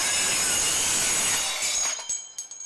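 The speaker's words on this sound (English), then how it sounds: "this is called a screamer, and you'll notice the noise of this particular tool when using it" A Milwaukee screamer cutting tool slices through EMT conduit with a loud, high-pitched continuous scream that rings steadily, then breaks into short bursts and trails off near the end.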